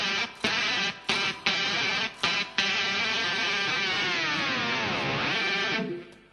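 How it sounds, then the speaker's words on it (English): Distorted electric guitar riff on a Les Paul, played through a pitch pedal that bends the notes up and back down; loud chugging stabs with short breaks, then a long sustained note that swoops in pitch before stopping. "And that was just me bringing the pedal up and back down again."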